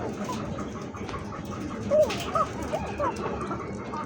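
A Lahori satin koka pigeon coos in short calls amid a busy outdoor bird market, with a dog's whimper and other birds in the background and people talking nearby.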